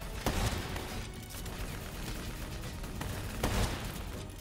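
Sustained gunfire at a VTOL aircraft in Call of Duty: Black Ops 3, a steady, fairly quiet clatter of shots with a few sharper cracks standing out.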